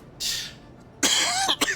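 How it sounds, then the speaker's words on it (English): Raspy human coughing, close and fairly loud, in two bursts: a short one early, then a longer rougher cough with throaty breaths. "sorry for my coughing"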